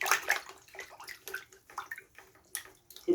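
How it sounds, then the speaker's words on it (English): Bare feet being rinsed in a bucket of water, giving irregular splashing and sloshing with small drips and gurgles in separate bursts, close and moderately loud, no talking. "Dip my feet in the bucket, in the water,"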